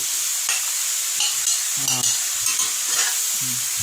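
Fried potato tossed with onion and sweet pepper in a wok gives a bright, steady hiss of stir-frying, broken by rhythmic scrapes and clanks of a spatula every half second or so, close and alone.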